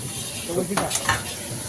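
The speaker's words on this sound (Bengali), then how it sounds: "মাছটা ভাজা হবে এবার" Fish frying in a pan gives a close, fairly loud sizzle with a few stirring and scraping clatters partway through, and no talking.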